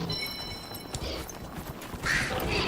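Horse mount hooves in the video game Dragon Age Inquisition, a run of muffled clip-clop footfalls under game ambience with a brief whinny-like burst near the end; no talk.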